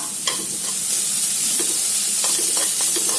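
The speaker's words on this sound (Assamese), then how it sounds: "মই নাৰিকল অকণমান ভাজি লৈছোঁ" Dried coconut pieces frying in a pan while being stirred, a continuous close sizzle broken by scraping and tapping strokes of the spoon throughout.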